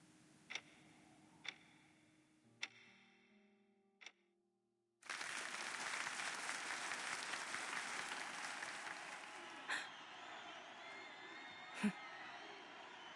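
Sustained crowd applause bursts in after a few sharp, isolated clicks and continues steadily to the end, loud and dense.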